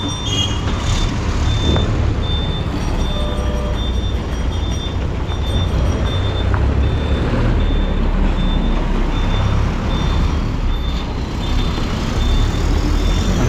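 An MSRTC Lalpari state bus on a Konkan village road, running from Ratnagiri toward Chiplun, rumbles steadily and loudly nearby while intermittent high reversing beeps repeat over the engine noise.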